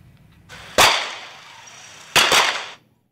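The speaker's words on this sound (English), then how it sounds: "Gunfire and tear gas have rocked Kampala city and its suburbs for the second day" Two sharp gunshots crack a little over a second apart, each trailing off into a hissing rush of noise, amid unrest with tear gas in Kampala, Uganda.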